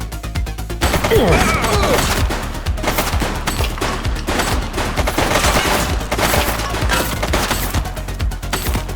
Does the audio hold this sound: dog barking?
no